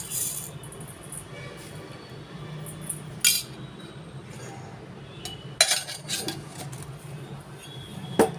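A metal spoon clinks sharply a few times against a bowl while spoonfuls of sugar go into curd beaten rice, over a low, steady background rumble.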